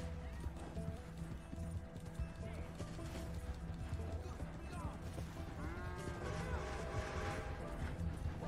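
Horse hooves clip-clop steadily at a gallop throughout a Red Dead Redemption 2 game scene, mixed with game music and ambient sound, and a horse whinnies faintly near the end.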